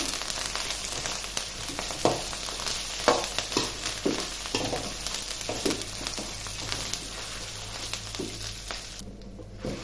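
Dry red chillies, chana dal and urad dal with curry leaves fry in a pan, crackling and sizzling steadily, with a spoon stirring them in repeated scraping strokes throughout.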